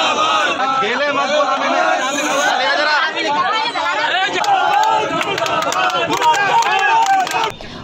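Protesters gather at a demonstration, their voices massing into loud, continuous crowd chatter and chanting that runs for the whole span, with many voices overlapping.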